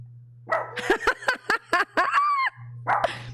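A dog barks a quick run of sharp, close barks and yips, about eight in a row, then one more after a short pause, over a low steady hum.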